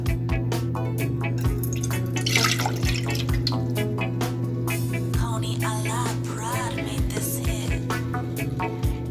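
Tap water runs into a kitchen cup as broth is prepared for an Italian sausage dish, a steady trickle with sharp drips and splashes over a constant low hum of kitchen noise.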